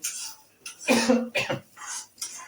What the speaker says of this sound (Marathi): त्याच्यामुळे एक खोकला वगैरे येतोय